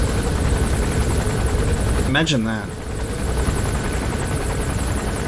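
A helicopter in Metal Gear Solid V: The Phantom Pain drones as a steady, loud rotor wash filling the whole clip, with someone speaking briefly over it.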